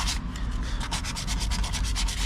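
Rhythmic dry scrubbing as a car body panel is rubbed down by hand ahead of spray-can painting in a backyard repair, with steady back-and-forth strokes, close and fairly loud, and no talk.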